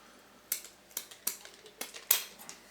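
Scissors snip excess component pins off a Teensybat PCB over a dustbin, six or so sharp metallic clicks at uneven intervals, close and crisp with quiet gaps between.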